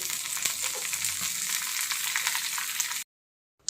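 Curry leaves and dried red chilies frying in a tablespoon of hot coconut oil with cumin and mustard seeds, a steady loud sizzle and crackle for about three seconds before cutting to silence, then a brief return.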